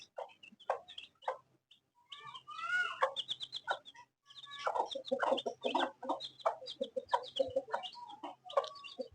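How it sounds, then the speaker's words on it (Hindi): A hen walks about with her chicks, giving repeated soft clucks in irregular bursts with a few higher calls among them, close by and fairly loud, with no talking over it. "कितनी प्यारी मुर्गी है।"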